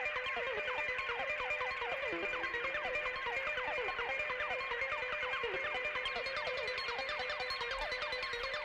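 Busy modular synth patch with delay and reverb, fast repeating plucked tones smeared into a washy, echoing cascade that keeps a steady level for several seconds, with no talking.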